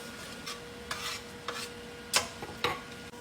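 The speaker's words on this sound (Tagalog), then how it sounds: "Nagigisa na siya." Aromatics sauté in a pan before pork is added, giving a soft, steady sizzle. A handful of separate spatula scrapes and stirring strokes sound close by, with no talking.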